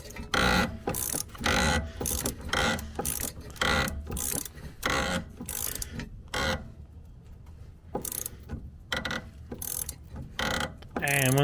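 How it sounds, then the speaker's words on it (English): A ratchet wrench loosening a bolt on a project GT Mustang, giving rapid repeated clicking strokes in bursts, close and loud, with a brief pause partway through. "we're gonna take this bolt out"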